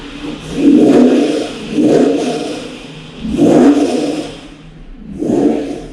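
An Acura NSX engine idles roughly on a cold start and revs in repeated swells, with a deep, throaty exhaust rumble rising and falling close by.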